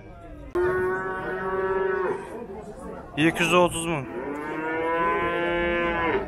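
Cattle at the Zharkent livestock market low with two long, loud, close moos separated by a short burst of noise, as traders talk in the background.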